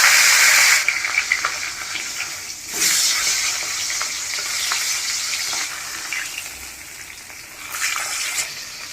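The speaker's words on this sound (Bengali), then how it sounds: "আমি এখন মাছের মাথাটা ভাইজে নেব, তাই কড়াইতে তেল দিয়ে দেব।" Fish head frying in hot oil in a wok, a loud, bright sizzle that crackles and hisses steadily, with surges as the oil spits and the pieces are stirred, easing briefly before flaring again.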